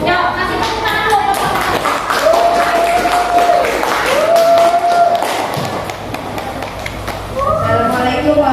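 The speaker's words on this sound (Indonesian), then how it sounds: "Yuk, kasih tepuk tangan dulu." A school class claps for a presenting group, a dense, steady wash of applause close up that fills the room, with voices mixed in.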